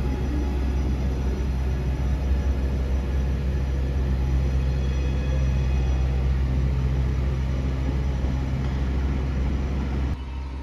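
A loud, steady rumble of a passing Jazz electric passenger train, heavy low roar holding constant for about ten seconds before dropping off abruptly at the end.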